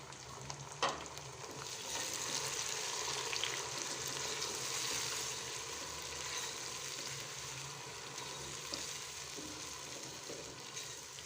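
Tomatoes fry in a pan with light-brown onions for a mixed veg masala rice, a soft, even sizzle that holds steady throughout at a low level, with one small knock near the start.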